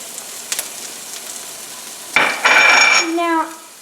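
Chopped jalapeno tossed into a pot with bacon fat, a spoon scraping and stirring as the peppers hit the hot pot and burst into a loud, close sizzle.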